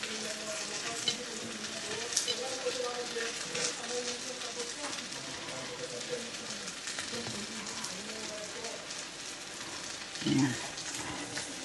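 Onions fry in a pan with a steady, close sizzle and crackle running throughout, while someone talks now and then over the cooking.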